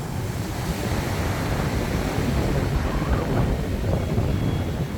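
Wind and waves around a fishing boat at sea: a steady broadband roar of gusting wind buffeting the microphone over sloshing surf, loud and continuous with no talk.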